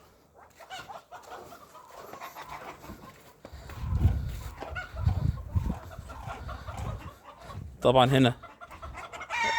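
Chickens cluck and a rooster crows at a poultry farm where ducks and hens are fed, the bird calls rising in irregular bursts with a loud close outburst near the end, while someone speaks briefly at the start.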